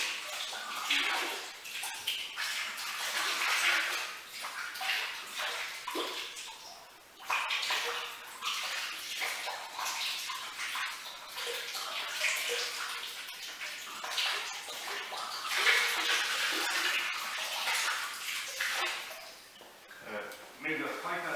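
Water pours steadily into a home brewing vessel fitted with electric heating elements, a continuous rushing, splashing wash that runs throughout at close range with small fluctuations and no talk over it.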